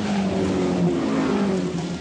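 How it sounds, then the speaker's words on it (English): Touring race car number 6 heads into the pits at the 1987 WTCC Wellington Nissan Mobil 500 street race, its engine a loud, steady, dense roar that holds throughout with little variation. "here's car number 6 heading into the pits"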